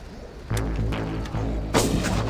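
Heavy booming shots from an explosive gun in the video game Far Cry go off against a constant low background hum, one blast near the start and another louder one toward the end.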